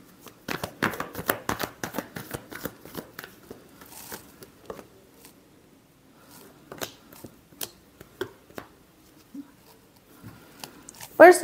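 A deck of tarot cards is shuffled close by in a quiet room, with crisp riffling flutters in clustered bursts, a pause, then more light shuffling, while a person talks.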